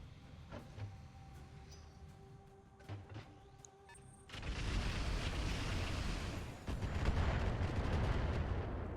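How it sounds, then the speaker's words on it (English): Missile impacts and explosions in the RogueTech mech video game: a few sharp cracks, then a loud sustained rumbling barrage of blasts that fills the rest of the stretch. "More missiles coming in."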